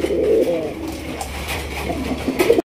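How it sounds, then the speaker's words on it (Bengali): Large Raj Golla fancy racer pigeons coo in a steady low rumble of overlapping calls, close and fairly loud, continuing throughout without any talk. "বিশাল সাইজের রাজগোল্লা কবুতর মাশাআল্লাহ"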